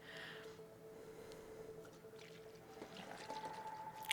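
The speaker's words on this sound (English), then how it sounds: "Sewer water, my favorite." Sewer water trickling and pouring in the video game Stray, faint and low, with splashy bursts near the end over a quiet background hum.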